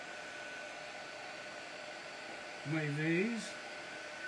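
A dryer blows steadily to dry crackle paste on a vase, giving a constant close whooshing hum throughout. A voice speaks briefly over it.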